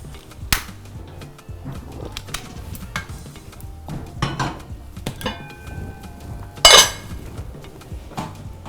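A pan set down and handled on a stovetop before cooking egusi soup with palm oil: scattered metallic clanks and knocks, one loud ringing clatter near the end, with quieter shuffling between, close and without talk.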